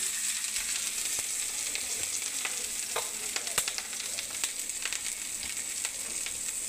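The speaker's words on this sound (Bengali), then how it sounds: "তেলটা দেখুন গরম হয়ে গেছে। এবার আমি বেগুনটা ছেড়ে দেবো বন্ধুরা।" Eggplant slices sizzle steadily in hot oil in a home kitchen, a dense crackling hiss with scattered sharp pops and spatters, close and continuous.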